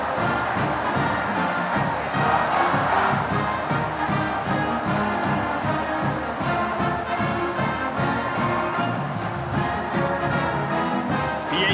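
A stadium crowd roars after a touchdown in a College Football 2025 video game, Wyoming at Hawaii, with a dense steady cheer holding loud throughout.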